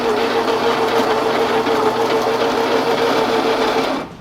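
A Baratza Encore coffee grinder grinds beans while being adjusted toward an espresso setting, a loud, close, continuous motorized whirr that holds steady for about four seconds, then winds down and stops.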